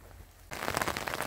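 Light rain suddenly begins to patter on a surface outdoors along a countryside walking trail, a dense, crackling hiss of drops that stays steady and fairly close, with no voices.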